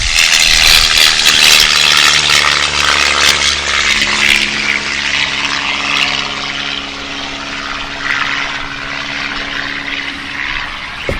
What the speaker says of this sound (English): As the plane goes overhead